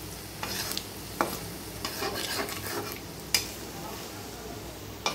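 Gram flour for pakoras is fried and stirred in a pan, with a continuous low sizzle broken by several sharp utensil clinks and scrapes against the pan, heard up close.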